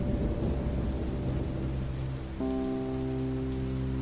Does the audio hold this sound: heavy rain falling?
yes